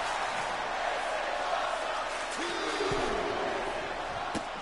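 A video game arena crowd in WWE 2K24 roars in a steady, dense wash of cheering, with a couple of brief impact thuds breaking through near the end.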